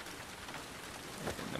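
Steady rain falling in the video game The Last of Us Part II, a dense, even patter of drops hitting surfaces, heard alone without speech.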